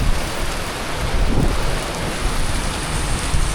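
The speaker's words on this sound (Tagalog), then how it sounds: "Let's swim into the rain." Heavy rain falling in a storm, a dense, steady wash of noise filling the whole clip with a slight swell midway, close and loud with no voices.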